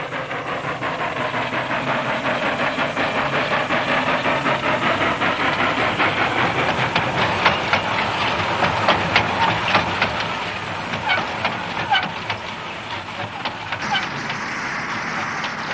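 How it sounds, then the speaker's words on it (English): A wood-fired ex-government steam locomotive hauls timber on a 20-mile mill line, giving a steady hissing, chuffing rumble with rapid rhythmic beats that sharpen toward the middle and stay loud throughout. "Mill haul timber over its 20-mile line using ex-government railway locomotives fired with wood."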